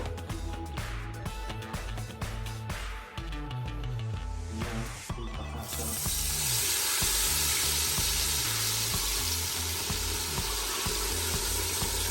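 Battered chicken pieces dropped into hot oil for vodka-batter fried chicken, quiet clinks and stirring at first, then a loud, steady, dense sizzle that swells and holds close up with no talk.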